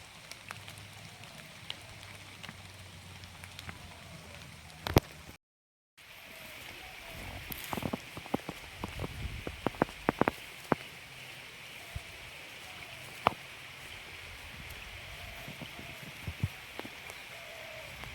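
Rain patters steadily on a surface close by, with scattered sharper drops and clicks and a short gap of silence partway through, and no voices.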